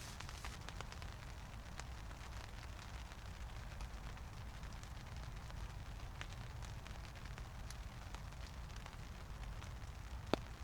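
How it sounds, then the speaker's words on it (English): Steady rain falls outside a woodland shelter, a continuous dense hiss of drops on surfaces with occasional sharper patters, even and unbroken throughout. "It's just raining."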